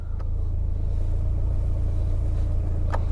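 Citroen Saxo heard from inside while driving, with a steady low engine rumble and road noise filling the cabin, plus a couple of brief faint clicks.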